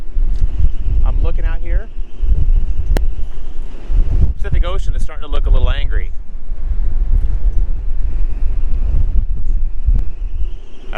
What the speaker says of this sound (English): the wind's building, it's blowing 25, gusting into the 30s